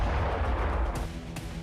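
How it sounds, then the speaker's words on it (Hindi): A Ukrainian drone strike explodes on the headquarters of a Russian anti-aircraft missile regiment: a brief, loud, deep rumbling blast with a couple of sharp cracks near its end. "यूक्रेन ने रूस के एंटी एयरक्राफ्ट मिसाइल रेजिमेंट के हेडक्वार्टर पर ड्रोन विस्फोट किया।"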